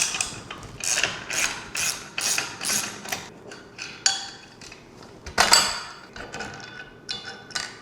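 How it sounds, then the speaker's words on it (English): A ratchet wrench loosening a bicycle axle bolt, close and crisp, with repeated rapid metallic clicking strokes in a steady rhythm and a few heavier clanks, no voices. "we are going to remove the axle bolt so we can get the rim"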